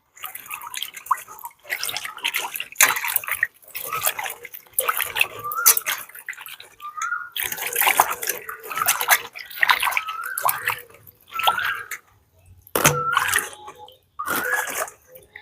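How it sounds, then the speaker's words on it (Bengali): Lychees are washed by hand in a bowl of water at home, repeated splashes, swishes and drips coming in short close bursts separated by brief pauses. "লিচুগুলোকে ধুয়ে তুলে নিচ্ছি"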